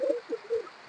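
Pakistani Hiralal running pair pigeons cooing softly, a few short low coos in quick succession, close by and fairly quiet.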